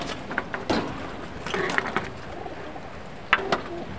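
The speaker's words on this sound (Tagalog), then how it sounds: "Oh, grabe yung ibon mga kalapatids oh." Pigeons or doves out in the open, some of them wet, make soft coos and rustling wing and scuffling sounds, with brief calls and a sharper flutter near the end over a steady outdoor background.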